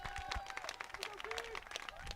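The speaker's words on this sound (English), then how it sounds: "Crowd applauds." A baseball crowd at Bobby Hopkins field, Oak Ridge against Nolensville, claps and cheers in a steady patter of applause, with a voice talking over it.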